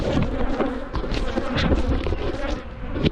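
Agitated bees swarm loudly around an open hive, a dense, continuous buzzing close by with individual insects whizzing past.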